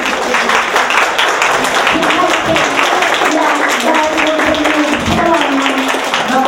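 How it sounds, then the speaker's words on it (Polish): A crowd at an event with actress Krystyna Sienkiewicz in Sieradz, Poland, claps loudly and densely, sustained for several seconds before cutting off abruptly, with some voices faintly mixed underneath. "Jeszcze raz prosimy o klaski"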